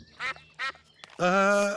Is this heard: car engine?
no